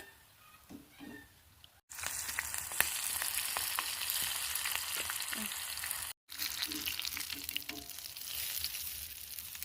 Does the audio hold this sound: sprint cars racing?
no